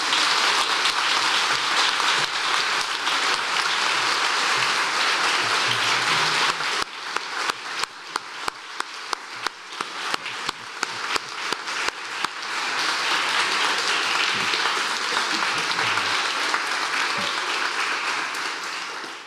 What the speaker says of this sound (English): let's give Winter another round of applause for her great work